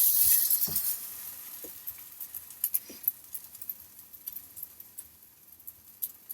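French toast sizzles softly in a pan while metal utensils clink and scrape, with one louder burst of frying near the start as the bread is flipped, then quieter crackling and scattered light taps.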